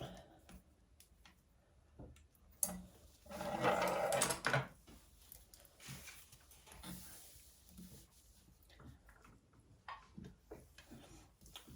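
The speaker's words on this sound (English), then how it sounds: "Now I'm just going to baste this down, row of stitches down the sides and across the bottom" A sewing machine bastes a row of stitches along the sides and bottom of a handbag lining in one steady burst of about a second and a half midway, with quiet handling noises before and after.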